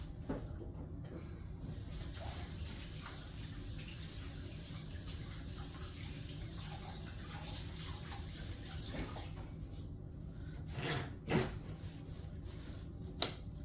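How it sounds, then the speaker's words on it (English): Hands being washed with soap under running tap water, a steady faint hiss of flowing water with a few soft splashes and clicks near the end. "Now I'm going to move that over to the side and I'm going to wash my hands."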